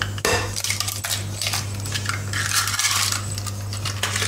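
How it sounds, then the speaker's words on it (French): Three whole eggs drop into a bowl of almond cream made with ground almonds, giving a sharp knock against the bowl followed by light clinks and scraping, close and without speech. "on rajoute 3 œufs entiers"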